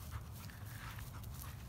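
Kennel dogs pant close by in quick, rhythmic breaths, low and soft, steady across the short moment with no talking.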